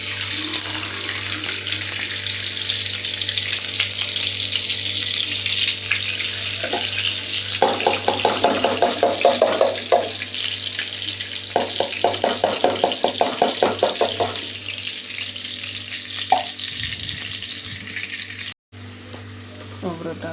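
Almonds and cashews fry in ghee for sheera, a continuous crackling sizzle with bursts of stirring scrapes in the middle, beneath a steady hum.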